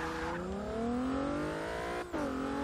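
Twin turbo Nissan Juke-R race car engine in Forza Motorsport 6 revs hard, pitch climbing through a gear, a brief dip at a shift, then pulling again, loud and close with no talk.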